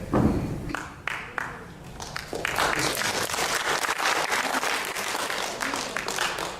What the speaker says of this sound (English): Did you clap your hands?